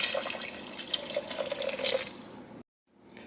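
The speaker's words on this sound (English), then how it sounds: "I'm just gonna add about a cup of water" About a cup of water pours steadily into a pot of lentil soup, a close, bright splashing stream lasting a couple of seconds before stopping abruptly.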